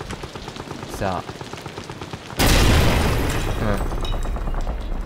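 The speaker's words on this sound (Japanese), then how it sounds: "こういった爆発物を使って、障害物を取り除かないといけないみたい" A grenade blast in the horror game Amnesia: The Bunker, used to clear an obstacle: a sudden loud boom that rolls into a long, heavy rumble, with brief talk before it.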